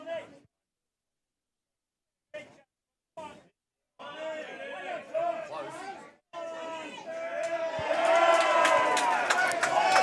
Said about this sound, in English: The crowd erupts. Absolutely erupts.